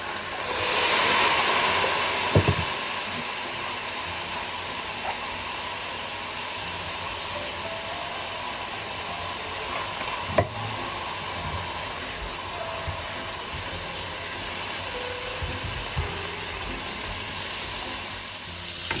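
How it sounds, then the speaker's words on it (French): Calvados poured over pork escalopes in a hot frying pan catches and flares, giving a steady sizzling rush with a burst at the start and a few sharp clinks and pops of the pan along the way, with no one talking. "j'ajoute le calvados et je vais les faire flamber."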